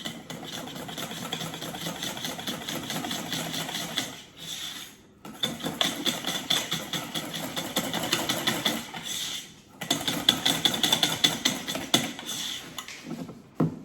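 Electric mixer whirring steadily as it blends pistachio mousseline cream, the loud motor running in long stretches with two short pauses, no talking.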